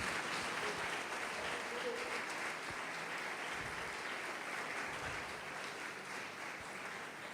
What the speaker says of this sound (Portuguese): pode aplaudir, glorificar Senhor Jesus